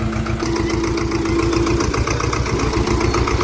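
A farm tractor engine runs steadily at close range, a low, rhythmic chugging that thumps evenly throughout with a droning tone above it.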